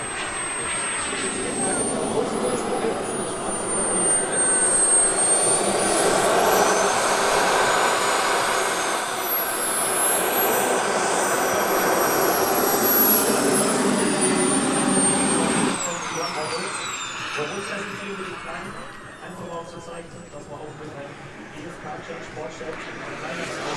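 A 1:5 scale radio-controlled F-16 model with a turbine jet engine flies a demo pass at a model airfield, its high whine rising as it sweeps close overhead and then fading into the distance, with people talking nearby.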